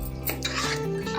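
A spoon stirs chopped banana, apple, grape and pomegranate into a kulfi fruit custard in a bowl, making soft clinks and wet scraping over a steady background hum.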